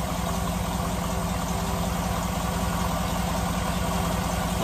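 A 2007 Cadillac Escalade, just repaired for a P0011 camshaft sprocket and oil pump fault with a fresh oil filter, idles steadily and evenly, close up, with no voices.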